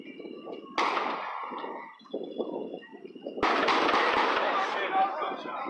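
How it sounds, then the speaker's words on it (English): Sharp, loud bursts of gunfire crack out in a city street block where a crowd is clashing with police, the reports arriving close together over shouting voices and street noise. "Those were actual gunshots"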